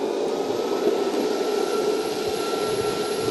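Evolve Stoke X electric skateboard running at full throttle up a slope, a steady, loud whirring motor whine with rushing wind noise, constant throughout.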